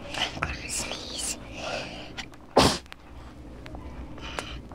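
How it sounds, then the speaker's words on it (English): A single sharp sneeze bursts out near the mic, surrounded by soft whispery breathing and faint background noise. "I'm gonna sneeze."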